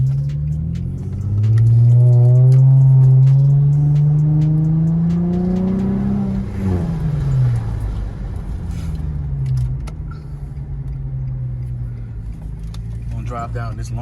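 Infiniti G35 engine heard from inside while driving down a long street, a loud close drone that climbs in pitch, drops at a shift, then climbs again more gently before easing off.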